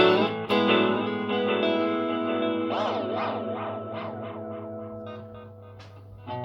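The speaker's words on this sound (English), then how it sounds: "next one is the tape delay" Distorted electric guitar run through an Electro-Harmonix Canyon tape delay, picked notes and chords repeating in warbling, wavering echoes that pile up and slowly fade, loud and sustained without any voices.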